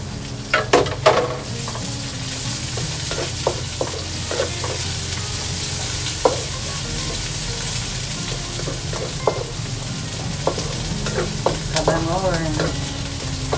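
Onion frying in a pan for ginataang alimasag with vegetables gives a continuous close sizzle, broken by occasional clinks and scrapes of stirring.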